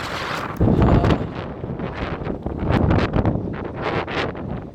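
Strong wind on a hill above Lake Tekapo, New Zealand, buffets the microphone in loud, rumbling gusts that surge and ease continuously, with a rustling, flapping edge throughout.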